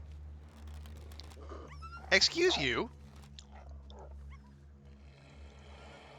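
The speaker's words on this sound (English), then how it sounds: "were you growling at me from there?" A wild animal growls in The Long Dark survival game, one short rough snarl rising sharply for under a second against a low ambient hum, with a player's voice speaking around it.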